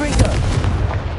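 Confringo fire spell blast in the video game Hogwarts Legacy: a loud, booming burst that rolls straight into a sustained, rumbling roar lasting about a second, heard alone without speech.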